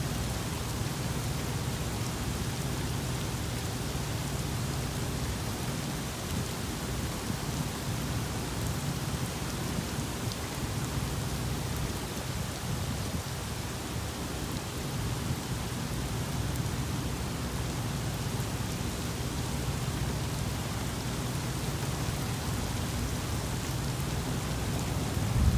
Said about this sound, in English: Thought y'all would like a good thunderstorm action.